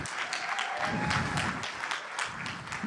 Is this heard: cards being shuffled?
no